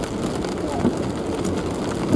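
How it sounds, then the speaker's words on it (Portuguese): Heavy rain pours down steadily and loud, a dense continuous hiss with scattered drops spattering on nearby surfaces. "Puta, aqui tá chovendo mais,"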